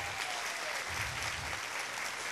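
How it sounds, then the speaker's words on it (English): A crowd aboard a cruise ship at a talent show claps in a continuous, fairly distant round of applause, a dense steady patter with no talking on top. "let's give her a nice round of applause as well"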